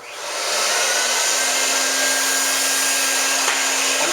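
Carpet-cleaning extraction machine starting up for water spraying and suction on a paint-stained rug, its motor rising over half a second into a loud, steady broadband whine with a constant low hum, running alone without talk.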